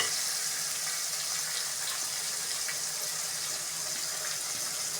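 Onions and tomatoes sautéing in a pan for sankara fish curry, a soft, continuous hiss of gentle sizzling that stays faint and even throughout.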